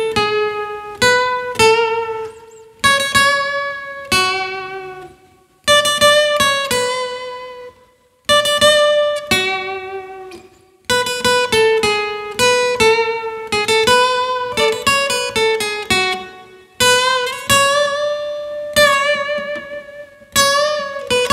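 A rock song plays as a loud recording, its bright synth-brass melody in punchy repeated phrases with short gaps between them.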